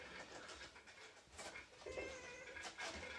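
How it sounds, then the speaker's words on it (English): A small cat meows indoors, giving a couple of short, fairly faint cries that rise and fall, heard close by with no talk over them. "I have got the little cat"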